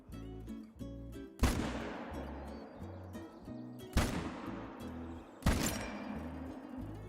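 Three loud rifle shots ring out in the Call of the Wild hunting game while a turkey is taken down, each a sharp crack followed by a long, decaying echo rolling over quiet outdoor ambience.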